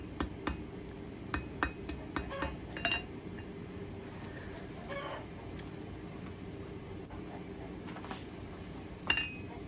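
Sharp metallic hammer strikes ring out in a quick run of about eight blows, then a few scattered taps, as hot steel is hammered on a cold anvil to draw an awl point, with quiet background between.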